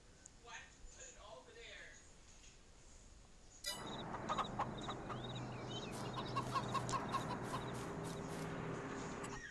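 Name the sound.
roosters and chickens clucking in Farming Simulator 22 video game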